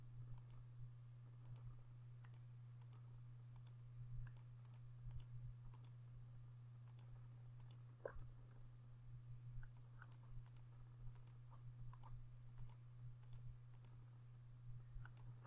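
Calculator buttons pressed one after another, sharp little plastic clicks in quick uneven bursts with short pauses, close and fairly faint over a steady low electrical hum.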